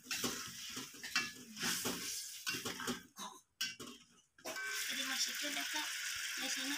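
Chicken steak sauce stirred in a pan with salt and sugar added, a spoon scraping and rattling against the pan amid a soft sizzle, with someone talking over it.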